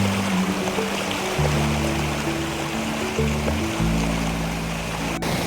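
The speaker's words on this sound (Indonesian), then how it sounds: "air sungai jadi naik dan arusnya sangat kencang sekali" A jungle river swollen by overnight rain rushes past, a steady broadband roar of fast current with low droning tones underneath, close and continuous without speech.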